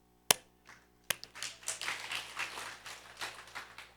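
A congregation at a church service claps after a sermon remark, starting with a couple of sharp isolated claps and building into scattered, moderately quiet applause with no talk over it.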